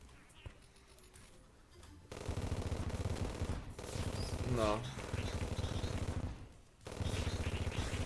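Rapid automatic gunfire from an explosive weapon in the Terraria video game rattles in sustained bursts, loud and close, with someone talking over parts of it.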